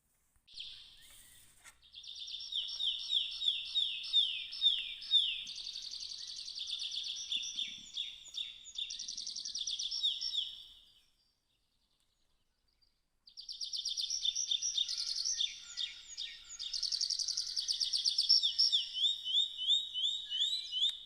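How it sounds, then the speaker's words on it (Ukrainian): A common nightingale sings in rapid, varied phrases of whistles and trills, pausing briefly before resuming, clear and close against quiet surroundings. "це Соловейко, один з найвідоміших співучих птахів України"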